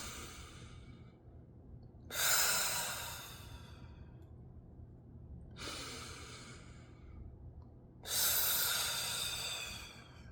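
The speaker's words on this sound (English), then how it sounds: "I wake up in the morning and I immediately start breathing." Deep, forceful breaths drawn in and pushed out in the morning as a breathing exercise, with three loud hissing exhalations spaced a few seconds apart over quieter inhalations, close and alone.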